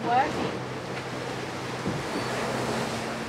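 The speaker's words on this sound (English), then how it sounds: "We've been surfing a few waves at about 15 knots." Ocean waves and wind rush steadily while surfing at sea on the Atlantic aboard a boat, a continuous broadband wash with gusting microphone wind noise and a brief voice at the start.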